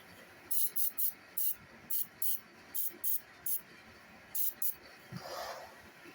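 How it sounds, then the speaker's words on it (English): Short bursts of spray hiss repeat in a quick, uneven series as gel coat is sprayed onto a shower crack repair, close and fairly loud, ending in a softer longer spray. "Spray some gel coat real quick."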